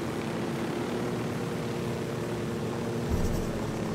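Helicopter in Ghost Recon Wildlands coming in to land, a steady droning rotor and engine hum holding at even loudness, close and continuous with no voices.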